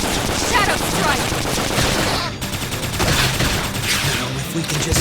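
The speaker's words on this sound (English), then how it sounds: "Now if we can just topple them with gunfire!" Rapid gunfire bursts in the Xenoblade Chronicles X Definitive Edition video game on Switch, dense and loud throughout, mixed with battle effects and game music, with character voices calling out over the combat.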